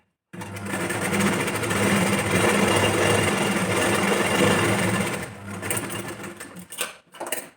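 A sewing machine stitches a back-open, princess-cut blouse at a steady, continuous whir for about five seconds, then runs in short, stop-start bursts before falling quiet.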